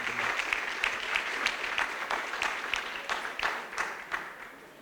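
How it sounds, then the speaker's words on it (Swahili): An audience at a remembrance event for victims of enforced disappearances claps at length. The applause is dense and fairly close, with sharp individual claps standing out and the sound easing off toward the end. "Tumpigie makofi akija."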